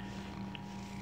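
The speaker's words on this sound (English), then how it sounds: "You're purring." A cat purring: a soft, steady, low rumble heard close up and alone for a moment.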